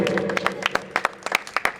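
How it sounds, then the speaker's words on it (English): A short burst of applause at a player auction, scattered claps popping unevenly for a couple of seconds over a low murmur of room noise. "Round of applause."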